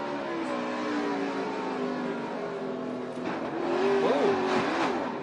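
Onboard with Danica Patrick's NASCAR race car, a steady loud engine drone holds throughout, with the pitch swelling and revving up near the end.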